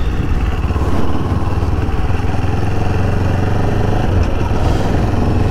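Motorcycle engine running at low speed through town, a loud, steady mid-pitched rumble with a slight rhythmic pulse, close by and continuous with no talk.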